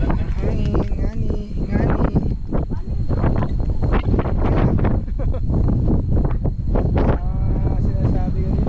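Strong wind buffets the microphone in heavy, roaring gusts on Mt. Marami while a person talks over it.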